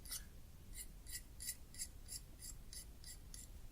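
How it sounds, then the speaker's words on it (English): A blade scraping built-up crud off a vulcanite pipe stem, strokes working away from the edge: about ten short, crisp scrapes in an even rhythm, close but quiet, with no voice. "I start by just scraping that off, and like I say, I'm scraping away from the edge of the blade"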